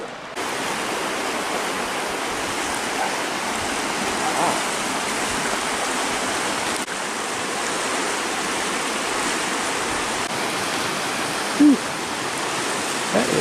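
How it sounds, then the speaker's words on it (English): A river seen from a bridge on a woodland walk among wild maples produces a steady, broad rushing wash, continuous and fairly loud throughout, with no voices. "there's the river"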